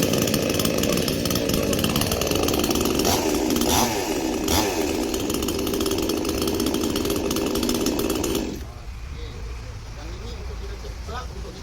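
A Hyundai 18-inch gasoline chainsaw runs loud and close, its engine buzzing and revving in waves before dropping to a lower idle near the end.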